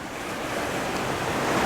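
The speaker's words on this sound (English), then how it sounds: "after the waves come in and then start to recede" Ocean waves break and drain off rocks along a coastline, forming a steady, loud, close wash of surf that swells slightly toward the end, with some wind and no voices.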